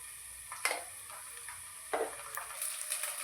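Ginger garlic paste frying with already cooked mutton in a pan, a soft steady sizzle broken by a few brief stirring scrapes, close and fairly quiet with no talk.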